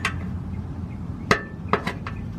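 Three or four sharp metallic taps, close and distinct, as a tail is used like a punch to knock a catalytic converter security shield into place under a 2012-2017 Toyota Prius V.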